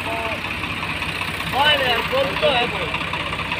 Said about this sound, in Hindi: ये जेसीपी लगा दी है स्वराज ट्रैक्टर के पीछे।